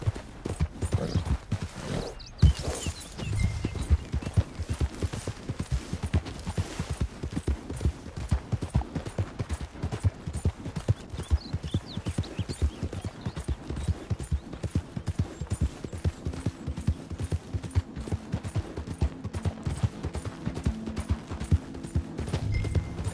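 A horse's hooves clop in a fast, steady galloping rhythm on hard ground, close and continuous for a long run, with a rider urging it on and faint voices now and then.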